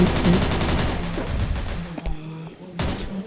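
Rapid gunfire from a shooting video game rattles in dense bursts, loud and close, breaking off in short gaps before another volley.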